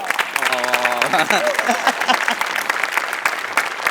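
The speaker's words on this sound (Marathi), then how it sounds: "तुझ्या तल्लख मेंदूसाठी आज टाळ्या" A studio audience at a Marathi comedy show breaks into crisp, sustained applause that continues steadily to the end, while a voice speaks briefly over the start.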